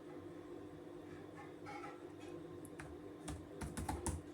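Computer keyboard keys tapped while writing Python file-handling code, a quiet, irregular run of clicks that picks up into a denser burst of keystrokes near the end, with no talking.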